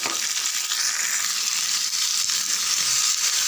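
Chopped tomatoes sauté in a hot pan for a spicy garlic tomato chutney, a steady close hiss of frying that runs unbroken without talk.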